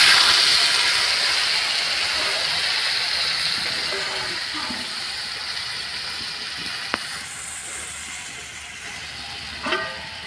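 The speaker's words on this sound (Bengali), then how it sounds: "এবার জল দিয়ে দেবো।" Water poured into a hot pan of potato and taro fried in spices, a loud steaming hiss that slowly fades over several seconds, with a brief clink near the end.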